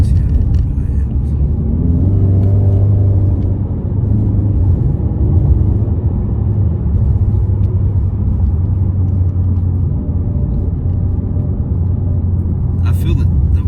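Inside a 2020 Ford Mustang High Performance Package taking a curve, a steady low engine and road rumble runs throughout at moderate loudness, with someone talking over it.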